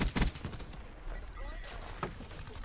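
Gunfire from a suppressed-class loadout in a first-person shooter game, a quick loud burst of shots at the start followed by a single shot later, mixed with game effects and a voice talking.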